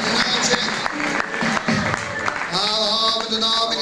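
Applause at a ceremony as a named person is called: steady clapping from a crowd throughout, fairly close, with a voice and background talk over it.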